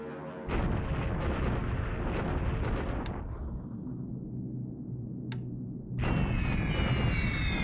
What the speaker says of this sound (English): Okay, so I'm bombing here to slow these guys from getting into this base.